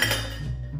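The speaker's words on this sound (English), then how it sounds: "We'll add a few ice cubes" Ice cubes clink into a cocktail shaker for a watermelon Jolly Rancher cocktail, a short burst of close, bright rattling and knocking under no talk.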